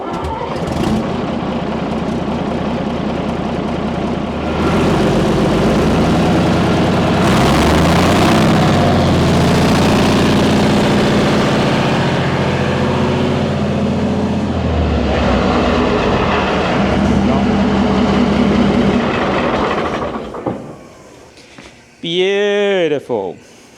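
A Chieftain tank engine cranks, catches and runs loudly with a deep rumble, its revs rising steadily toward about 900, then cuts out near the end as a voice speaks briefly.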